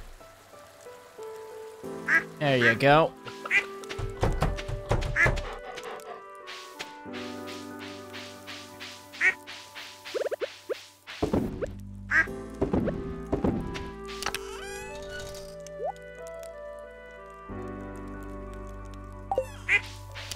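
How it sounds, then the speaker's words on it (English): Ducks in the Stardew Valley video game give a series of short, clipped quacks as they are petted, scattered among game chimes, clicks and musical tones, with a brief spoken remark. "Okay, did we pet every duck?"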